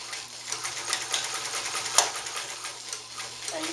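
A Sterling 100 Deluxe sewing machine stitches through eight layers of thick canvas with a steady, fast rhythmic clatter, moderately close, plus one sharper click partway through.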